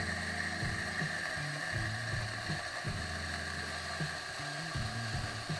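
A Fiorenzato F4 Nano electronic doserless espresso grinder runs steadily, its motor giving a continuous mechanical whir with a rattling, gear-like churn as beans are ground, fairly quiet and without talk.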